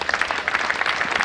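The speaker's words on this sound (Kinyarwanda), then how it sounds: "dukomere Imana amashyi" Steady applause from a church congregation giving praise to God, a dense run of many hands clapping at moderate volume, with no voices over it.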